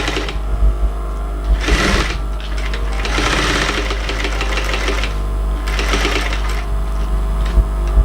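A sewing machine reverse stitching a leather tote bag, running in loud rapid mechanical bursts that start and stop several times, close up, with a steady low motor hum underneath.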